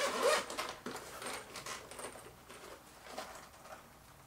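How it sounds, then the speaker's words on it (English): A zipper on a soft, shaving-kit-style action camera case is pulled open in a series of short, close rasping strokes, loudest at the start and tapering off. "Closed up by zippers."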